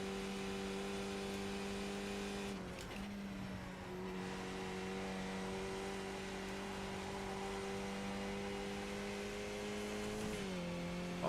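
A race car engine in iRacing at Mosport drones loudly and steadily at high revs through a long straight, with brief dips where the pitch drops for gear changes.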